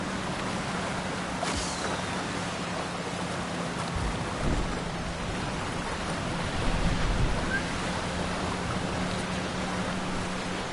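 Steady, broadband wash of ocean waves from the Trailmakers video game rolls on for the whole stretch, with a low continuous hum underneath and a slight surge partway through, no voices.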